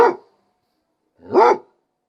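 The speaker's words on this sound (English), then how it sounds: "To woof is when they talk to you and they go woof" A dog gives two gentle woofs, close and fairly loud, separated by a pause of about a second, with nothing else audible.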